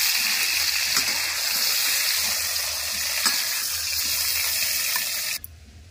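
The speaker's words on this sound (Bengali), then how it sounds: "সবজিগুলো হালকা করে ভেজে নিয়েছি। এবার তুলে নেব।" Vegetables sizzling in hot oil in a wok, a dense continuous frying hiss held steady at close range, cut off abruptly near the end.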